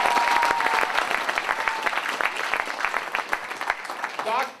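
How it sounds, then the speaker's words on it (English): An audience applauds Dr. Pollard at a college gathering: dense clapping starts strong and gradually thins into scattered claps, with a voice briefly audible near the end. "Let's give him a great round of applause for his leadership"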